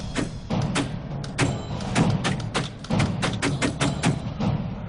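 Dust-filled acrylic balls striking a hard surface to fake bullet hits on a film set, a rapid irregular barrage of sharp, close thuds and taps.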